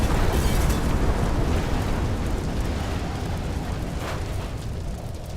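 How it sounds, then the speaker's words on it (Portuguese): A nuclear explosion in a Llamas with Hats cartoon, a loud sustained rumbling roar with crackling debris that fills the whole stretch and slowly fades, with no voices over it. "Isso até o momento que acontece uma explosão nuclear."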